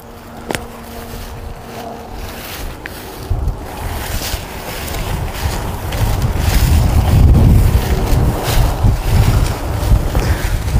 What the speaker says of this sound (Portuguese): Tá ventando, né? O vento até que tá fresco hoje